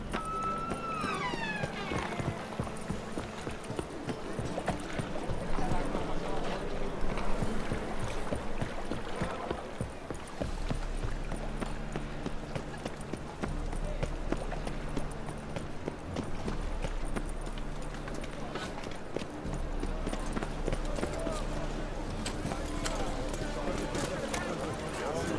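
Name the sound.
horse Roach hooves in The Witcher 3 video game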